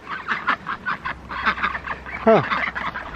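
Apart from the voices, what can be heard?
ducks making noise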